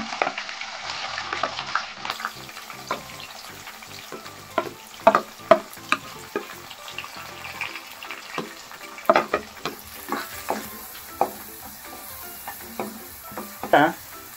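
Onions sizzling in hot oil in a pan with a bay leaf, cardamom, clove and cinnamon stick, a steady crackle broken by repeated stirring scrapes and clinks from a spoon, close and fairly loud.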